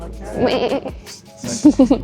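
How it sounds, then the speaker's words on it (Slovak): A goat bleats on a passenger airplane, with two short wavering calls close by and a brief pause between them. "Máme emotional support kozu."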